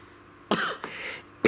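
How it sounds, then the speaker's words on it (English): Dry cough in two bursts, a sharp hack followed by a longer rough expulsion, then the start of a third at the end, close and fairly loud with no talk. "I do apologise about my cough."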